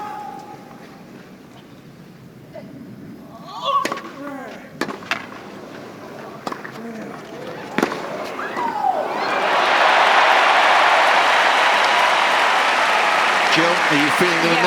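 A tennis crowd at the Roland-Garros final cheering for Alcaraz against Sinner: scattered claps and shouts build into sustained loud applause and cheering that fills the second half, with a commentator talking early on.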